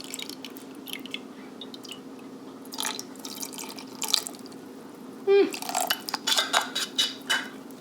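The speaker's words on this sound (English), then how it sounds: "To this, we're going to add a 1/4 cup of fresh lemon juice." Fresh lemon juice pours over strawberries in a pot for homemade jam, making a few soft drips and a short wet splashing burst near the end, quiet and close.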